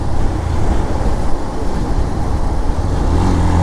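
Motorbike engine held at high revs on a flyover ride, a steady loud drone with rumbling wind noise, continuous and close throughout with no talking.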